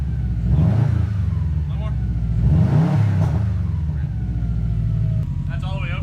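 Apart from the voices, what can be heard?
Subaru WRX STI engine revving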